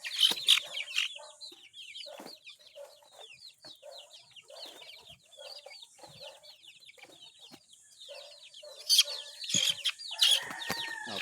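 Sick chicks being dosed with Tilmoco medicine peep and cluck continuously in a dense, fast chatter of short chirps close by, growing louder and busier toward the end, with no voices.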